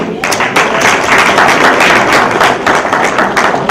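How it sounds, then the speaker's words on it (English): Audience applause at a women-in-religion peace anniversary gathering, a steady dense wash of clapping hands throughout, fairly loud and close, with slight swells and no clear talk over it. "Please, can you clap again for him?"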